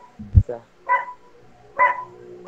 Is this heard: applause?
no